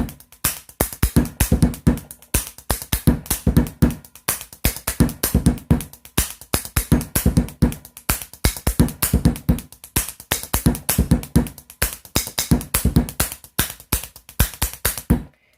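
Rapid, crisp tapping beats on a hard surface form a steady rhythmic pattern with varied accents, played continuously and up close.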